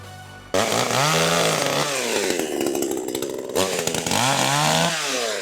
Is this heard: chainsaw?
yes